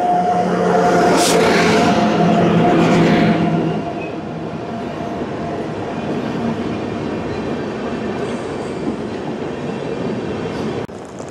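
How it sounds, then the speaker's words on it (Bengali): The Kanchankanya Express train rumbles into platform 4 of a station, loud and close at first with a brief horn-like tone, then settling into a steady lower rolling rumble. "কাঞ্চনকন্যা এক্সপ্রেস ঢুকে গেছে 4 নম্বর প্ল্যাটফর্মে"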